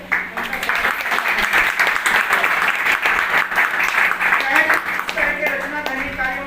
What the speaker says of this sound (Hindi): आप सब लोगों की तालियों से